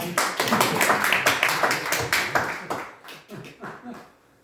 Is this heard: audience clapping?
yes